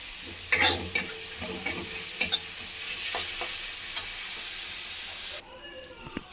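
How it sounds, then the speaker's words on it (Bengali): Onions stirred and frying in a pan for patal malai kofta, a steady close sizzle with several sharp clinks of a spoon against the pan, no talking. "এটাকে ভালো করে নেড়ে চেড়ে নেব, পেঁয়াজের যাতে কাঁচা গন্ধটা চলে যায়।"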